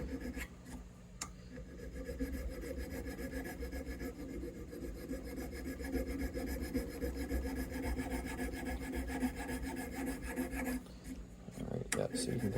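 A file rasps back and forth against a bone guitar saddle for a Yamaha FG9, a close, continuous scraping rhythm that pauses briefly near the end.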